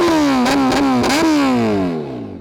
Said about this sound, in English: that lovely Leo Vinci exhaust. That thing is just insane. Let's do a nice proper sound test from the outside now.